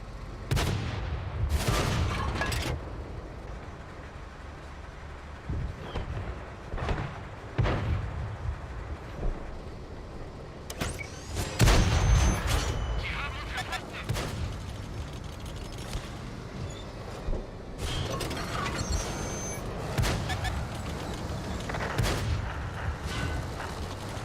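Repeated loud cannon blasts from tanks in a tank battle video game, several heavy booms fired near and far at irregular intervals over a steady rumbling backdrop.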